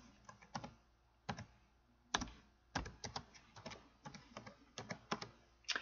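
Typing on a computer keyboard, with irregular bursts of close, crisp key clicks separated by short pauses, heard alone.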